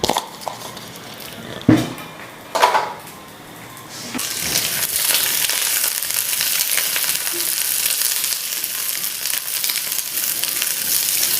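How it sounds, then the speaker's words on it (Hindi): Capsicum and onion hitting hot oil in a pan: a few clanks and taps at first, then a loud sudden sizzle that holds steady and close for several seconds, no talking. "शिमला मिर्च और प्याज को तकरीबन 2 मिनट तक हमें फ्राई करना है"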